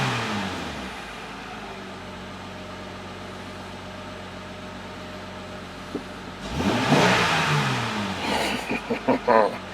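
A Honda Pilot engine idles steadily and smoothly after a failed fuel injector was replaced, a low even hum that swells briefly near the end.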